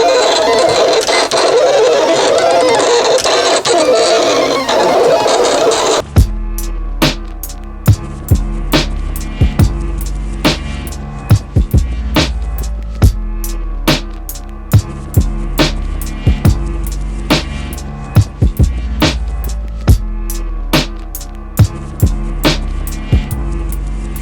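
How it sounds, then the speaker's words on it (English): Vinyl cutter slicing a heat transfer vinyl graphic: after a few seconds of rushing noise, a loud steady motor hum carries sharp rhythmic clicks and thumps repeating every half second or so. "We use a vinyl cutter"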